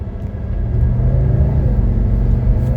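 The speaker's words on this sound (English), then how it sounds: "that's one of the healthiest 617 engines I've ever driven." A 1985 Mercedes 300D's 617 diesel engine pulls steadily under acceleration, a deep continuous rumble and drone from inside the cabin that builds slightly and holds, with no talk.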